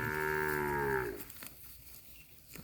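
A single cow in a grazing herd lets out one long, close, loud moo that fades after about a second, leaving quiet outdoor ambience with faint rustling and no talk.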